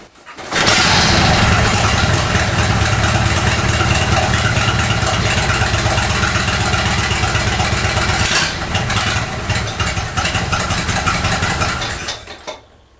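A vintage Matchless Model X motorcycle engine, kick-started, runs loud and steady at a rough, throbbing idle, close up, continuing without a break and then cutting out at the end.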